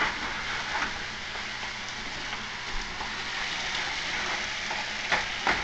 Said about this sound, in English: So there goes my tomatoes in.